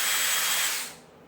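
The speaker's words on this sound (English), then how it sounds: "I do love power tools, just FYI." A handheld power tool whirs loudly and steadily for about a second, then winds down and fades at the end.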